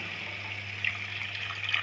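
Water pours steadily into a pot of fish curry with grated coconut, with a soft gurgling rush, a couple of brief splashy bubbles rising near the end.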